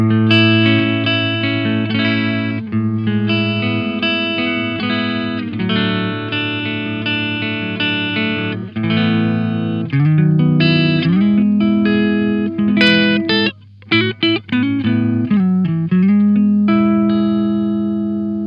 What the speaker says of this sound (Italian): una semplice registrazione di una chitarra in clean